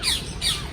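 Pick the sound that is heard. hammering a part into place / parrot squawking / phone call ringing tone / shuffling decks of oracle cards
parrot squawking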